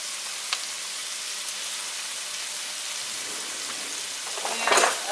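Onions and peppers browning in a pan for Creole pork chops, a steady soft sizzle throughout that swells into a louder burst of frying and stirring near the end.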